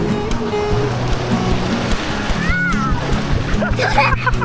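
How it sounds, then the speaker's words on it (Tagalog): Ocean surf crashes and splashes nearby in a continuous rushing wash, loud and close, with people's voices over it. "Woo, big wave."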